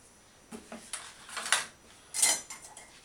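A hot knife handled against metal while the back is pried off an object, giving a few light, close clinks and scrapes in short bursts, with no voices.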